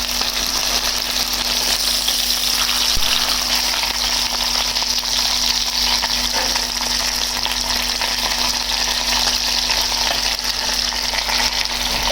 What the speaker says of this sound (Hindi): अब इसको फ्राई करके ऊपर से ज़रा क्रिस्पी करना है।